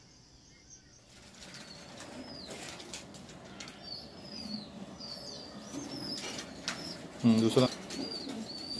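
Super Teddy pigeons of an imported breed flap their wings in a loose flurry and coo softly, with a louder burst of flapping near the end; someone talks throughout.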